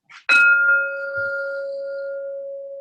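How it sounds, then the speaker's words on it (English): A Tibetan singing bowl struck once for a yoga session, giving a sharp clear strike that blooms into a long, pure sustained ring slowly fading over several seconds, heard alone and close. "when you hear the bell from the Tibetan bowl that I have, take a deep inhale"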